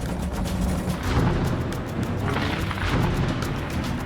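A loud, rumbling boom fills the air as lightning strikes an aircraft, a sustained heavy blast with roaring low-end noise throughout, with no talking.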